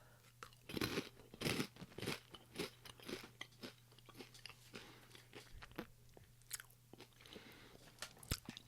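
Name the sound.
crunching Australian cheese doodle snack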